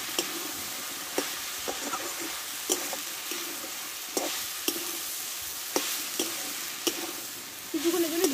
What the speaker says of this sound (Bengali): কিছুক্ষণের জন্য ভেজে নেব।